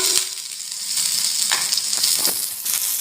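Chopped onion frying in hot oil with panch phoron for an Odia amaranth leaf curry, a steady close sizzle with a few stirring scrapes throughout, no voices.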